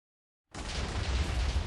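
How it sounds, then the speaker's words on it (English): A dense, loud wall of rapid-fire explosions from a Minecraft Jujutsu Kaisen mod erupts suddenly after a short silence and rumbles on without a break. "it's gonna be really fast explosions though"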